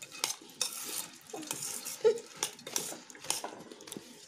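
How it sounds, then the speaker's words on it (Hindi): A spoon stirs a sweet boondi mixture in a bowl, making repeated irregular clinks and scrapes against the sides over a faint background, with no talking. "अभी इसको मिक्स कर रही हूँ।"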